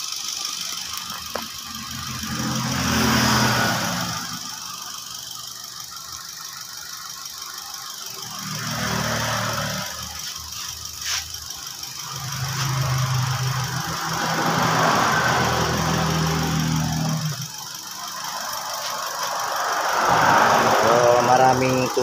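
A car engine with a timing chain, which has been overheating, runs at a steady idle with a low, even hum and a faint knocking vibration. Someone talks over it almost throughout.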